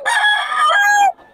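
A young gamecock stag rooster gives one loud, close crow lasting about a second, alone and with no talk over it.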